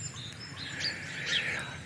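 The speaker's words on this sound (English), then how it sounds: "I think that's probably a robin." A robin sings outdoors in winter, a faint, distant run of thin, high warbling notes over quiet background hiss, with no talking.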